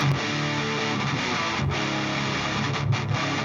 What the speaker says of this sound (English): That little bit of distortion really smooths things out.